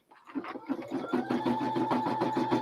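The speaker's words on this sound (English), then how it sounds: "Our red thread is in the machine. Let's go ahead and stitch the throat for that." A Brother SE400 embroidery machine stitching with red thread in a 4x4 hoop, a fast, steady mechanical chatter of rapid needle strokes that starts up and runs continuously, close and clear.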